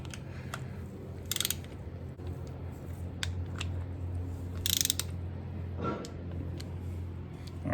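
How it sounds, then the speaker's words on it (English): Torque wrench tightening bolts on the front axle of a 1996 Ford F-350 during a seal replacement, giving a few short, sharp ratcheting clicks in bursts over a steady low hum, close by with no talking. "we're gonna go ahead and torque all these on"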